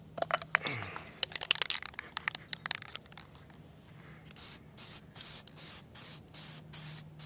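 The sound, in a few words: spray paint being sprayed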